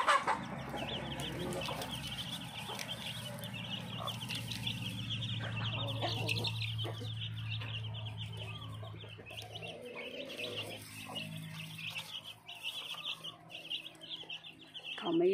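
Several farm-raised black chickens in Phetchabun, Thailand, cluck and peep around the listener, a steady flock chatter with a low hum underneath and scattered louder calls.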